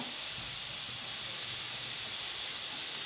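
Green chillies and garlic roasting in an iron pan give a steady, broad sizzling hiss that stays even and close throughout, with no voices.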